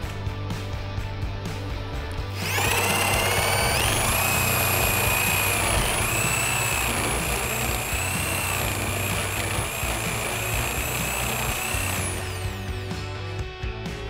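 A Dnipro-M power drill whines steadily at high speed, boring a hole continuously for about ten seconds before spinning down, loud and close.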